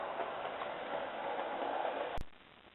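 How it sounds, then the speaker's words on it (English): An 00 gauge model railway train, pulled by two locomotives, runs steadily around tight first-radius curves with a continuous close rolling hum and faint wheel clatter, followed by a sharp click near the end. "So not only do these two locomotives run fine on first radius curves, they can also pull a proper train on those curves."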